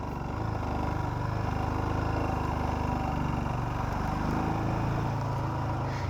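A motorcycle engine runs steadily on a mountain road trip along Katharnak Road near Nako, a continuous close throbbing drone with rhythmic low pulsing and wind noise, no talking.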